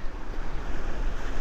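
Ocean waves wash along the rocks at Montauk inlet in a steady, broad rushing surf, mixed with wind noise, fairly loud and continuous.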